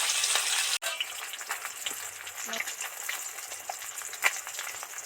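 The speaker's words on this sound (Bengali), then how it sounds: "মাছগুলো সব ডিপ ফ্রাই করে ভেজে নিলাম" Pieces of bhola fish deep frying in oil give a dense, continuous sizzle with scattered pops and a brief utensil knock, close and steady.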